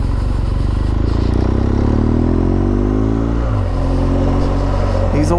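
A BMW R1200GS Adventure boxer engine with an aftermarket exhaust rumbles loudly and steadily up close, the exhaust note rising and falling as it revs, with a brief clatter near the end.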